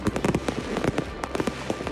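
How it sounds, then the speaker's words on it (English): New Year fireworks in snowy Warsaw crackle and pop in rapid irregular bursts, a string of sharp snaps and distant booms at moderate loudness with no voices heard. "In snowy Warsaw, revelers braved the cold to enjoy fireworks and festivities."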